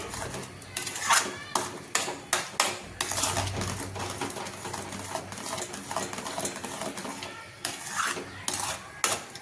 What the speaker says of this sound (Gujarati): આવી રીતે સતત હલાવતા રહેવાનું છે